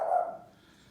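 A single short bark or yip from a small Jack Russell–pug mix, fairly close, fading quickly into quiet room tone.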